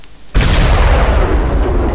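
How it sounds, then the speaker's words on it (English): An artillery cannon in the video game Desert Combat lets off a single loud, close explosion that bursts suddenly after a quiet moment and then roars on as a broad, heavy rumble. "this is an artillery cannon, by the way. That giant explosion."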